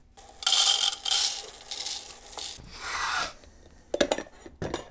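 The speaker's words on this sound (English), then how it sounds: "Let's add some beans and show you how the Baratza Encore grinds." Coffee beans are poured into the hopper of a Baratza Encore electric burr grinder, a close, dry rattling and rustling cascade followed by a few sharp clattering knocks, with no talking.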